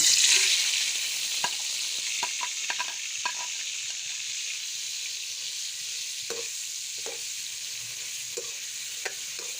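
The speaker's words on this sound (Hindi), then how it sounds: "तो ये हम अभी इसमें चिकन फ्राई कर रहे हैं" Chicken frying in oil in a karahi, with a strong continuous sizzle and scattered light taps and scrapes from stirring.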